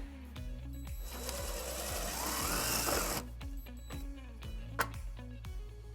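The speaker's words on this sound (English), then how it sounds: "we're going to drill our first hole" A power drill bores a hole for a trailer wiring harness bracket on a 1997 Infiniti QX4. A steady motor whine with rhythmic ticking swells into a rougher grinding burst, then settles back to the ticking hum.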